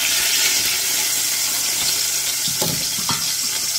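Hot oil sizzles steadily in a frying pan just after chicken has been browned in it, a loud, continuous broadband hiss with a few brief clinks and stirring sounds near the end; no one speaks.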